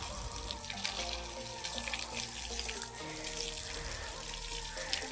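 Water sprays from a hose pipe onto a freshly plastered wall below a window, a continuous even hiss and patter with a faint low hum underneath, steady throughout.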